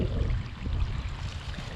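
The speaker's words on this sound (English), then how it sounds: "water's coming out through here" Water trickling out of a broken PVC pipe leak, a faint, steady low gurgle and splash running continuously without a break.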